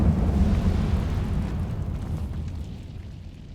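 A cast of the Incendio fire spell in Hogwarts Legacy lets out a loud, low whooshing roar of flame that swells at once and then slowly fades away.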